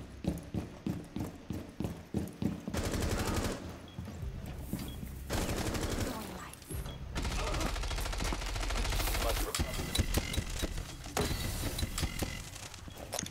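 Rapid bursts of automatic gunfire from a Rainbow Six Siege firefight in a bomb match, loud and close, coming in repeated sprays with short gaps between them.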